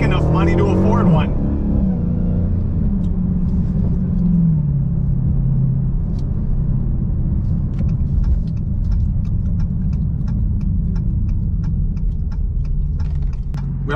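A Dodge Challenger Hellcat Redeye Super Stock sits with its engine rumbling steadily and deeply for the whole stretch, the low growl running continuously beneath someone talking up close.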